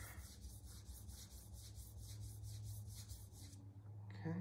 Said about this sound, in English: thinned the knife with our 100 micron diamond resin stone